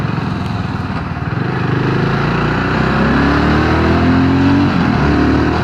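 A BSA Scrambler 650 engine drones loudly and up close during a ride, with its pitch slowly climbing as the bike accelerates under steady wind rush.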